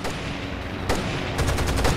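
Gunfire in the co-op shooter Rainbow Six Vegas 2, a dense run of rapid shots with a sharper burst near the end, loud and close with no talk over it.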